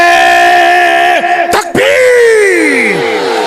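A large crowd at a religious gathering roars a chanted slogan in unison, loud sustained voices that break off briefly and surge again, answering a takbeer call.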